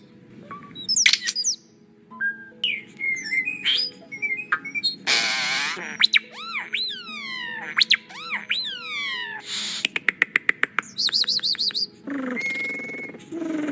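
A common starling sings alone in the morning, a varied run of whistles, rising and falling slides, clicks, rattles and mimicked chirps, delivered in short close bursts with brief gaps between them.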